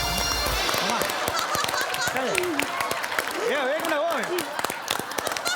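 Audience applause at a live comedy stage show, a burst of clapping with loud voices talking and calling out over it.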